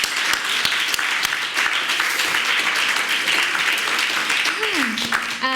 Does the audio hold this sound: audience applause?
yes